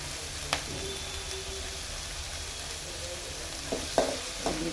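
Ingredients for chitranna fry in oil in a pan, a steady soft sizzle with a few brief stirring clanks from a utensil near the end, fairly faint and with no talking.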